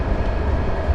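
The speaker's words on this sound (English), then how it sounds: "It's another Hokuriku Region 1500 series." A Hokuriku Region 1500 series train passing on the Sankai Main Line makes a brief, loud, even rumble.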